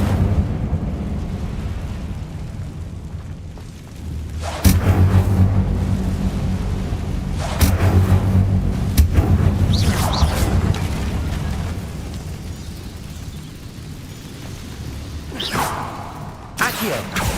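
A fire spell cast in the Hogwarts Legacy game, heard as a sudden whooshing burst around the five-second mark, followed by rumbling, booming effects and further magical swooshes over a steady low game background.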